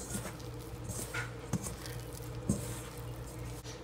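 Soft, wet squishing and slapping of parotta dough kneaded by hand, with a few sharper pats at irregular intervals over a steady low background hum, close and quiet.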